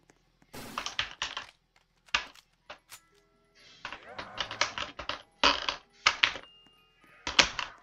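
Computer keyboard key being pressed repeatedly, sharp clacking bursts in irregular clusters with brief gaps, close and fairly quiet, with a voice talking in between.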